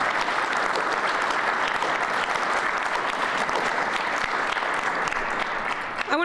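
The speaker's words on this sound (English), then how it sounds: "Let's give another round of applause to all of our awardees." A ceremony audience at the Mayor's Medal of Honor 2021 applauds the awardees, sustained dense clapping from a large crowd that holds steady, then tapers at the very end.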